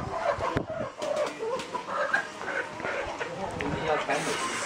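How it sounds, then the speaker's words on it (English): Chicken clucking in a village at the Longsheng Rice Terraces in China, agitated calls repeating nearby amid outdoor background noise while people talk over them. "Freaking out, chicken."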